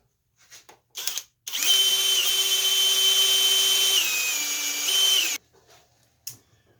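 A power drill bores dowel holes through a doweling jig on a wooden cabinet leg, one sustained loud whine of about four seconds dipping in pitch near the end, with short clicks and brief bursts before and after.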